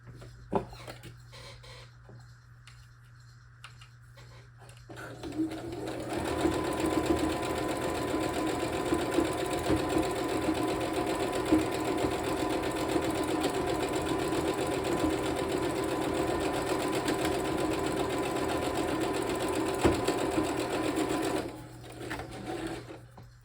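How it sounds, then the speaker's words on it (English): Sewing machine running a straight stitch across the top edge of thrifted stocking fabric, a fast steady mechanical patter that starts after a few seconds of quiet and runs continuously, close and clear, then stops. "Good sides together at the top of your stocking. Just a straight stitch."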